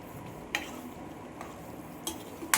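Quail egg mushroom gravy being stirred in a pan, with faint, sparse spoon scrapes and clicks over a low, steady sizzle and no talking.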